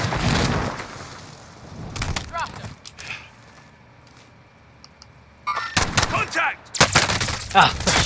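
Gunfire in Call of Duty Warzone crackles in loud sharp bursts at the start, middle and end, mixed with other game effects and overlapping speech from players.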